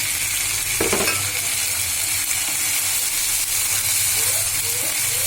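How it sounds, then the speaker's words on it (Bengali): Dried loitta fish, boned, being stir-fried with cooked-down spices in a pan, giving a steady close sizzle and hiss with a few scraping stirs of the spatula. "এবার কাটা ছাড়িয়ে যে আমি লটে শুটকি রাখছি এটা দিয়ে কিছুক্ষণ কষাবো।"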